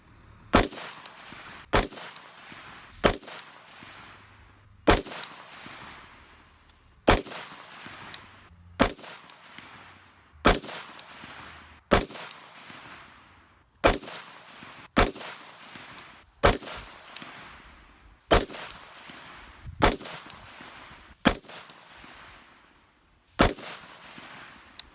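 Ruger AR-556 MPR rifle fired at a range while shooting groups: about sixteen sharp, loud shots at a slow, steady pace, each followed by a short echoing decay, with no talking.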